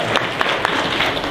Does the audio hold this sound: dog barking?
no